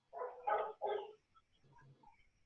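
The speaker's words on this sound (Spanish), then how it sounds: "hay un perro ladrando ahí" A dog barks three times in quick succession near a microphone during a recorded online class, followed by softer whimpering yips, with no talking over it.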